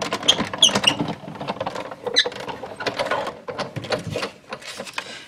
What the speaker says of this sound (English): run that through your die cut machine